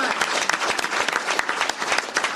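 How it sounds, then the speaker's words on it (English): Dense, sustained applause from an audience at an HHS press event honoring parents who brought their kids, a steady wash of many hands clapping close and loud, with no pauses. "I'd like to have a round of applause for all the parents that brought their kids down here today"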